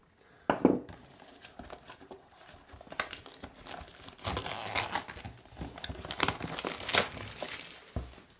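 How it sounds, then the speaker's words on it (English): Cellophane wrap crinkles and tears as it is peeled off a Flames of War terrain kit box, a sharp rip at the start followed by close, continuous crackling and rustling with no voices. "Take off that cellophane"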